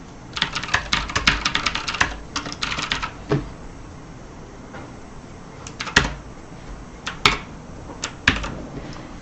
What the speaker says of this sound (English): So I can type in here.